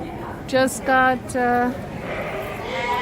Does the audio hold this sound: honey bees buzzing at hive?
no